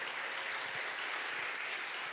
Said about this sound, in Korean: 박수 한번 하나님께 드리고